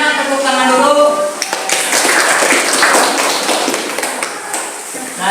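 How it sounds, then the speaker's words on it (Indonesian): Classmates in a classroom applaud after a group presentation, a close, fairly loud patter of hand claps that rises after a brief voice and continues unevenly, with some taps and thumps mixed in. "Sebelumnya tepuk tangan dulu."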